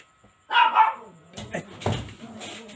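Dogs bark in a loud, close burst of several sharp yaps near the start, followed by people talking.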